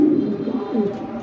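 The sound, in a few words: pigeon cooing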